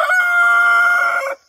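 A rooster crows once, loud and near, a sustained bright call held for over a second before cutting off cleanly.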